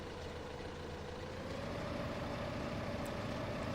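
A small tractor in Farming Simulator 15 idles with a steady low engine drone, a constant mechanical hum that is faint and unchanging throughout.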